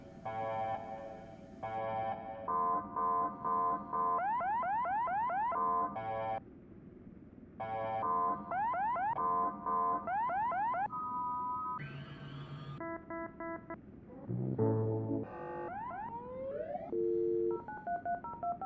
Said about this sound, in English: Oh no, it's set on alarm too.